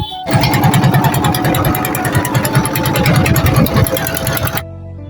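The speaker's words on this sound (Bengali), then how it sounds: "আমরা ট্রলার ছেড়ে দিল" A trawler boat's engine runs loudly and close up, with a rapid steady chugging beat that continues without a break and then cuts off abruptly near the end.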